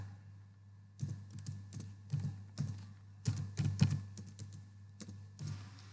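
Keystrokes on a computer keyboard come in irregular bursts of taps while code is entered for an IoT practical exam program, close and fairly clear over a steady low electrical hum.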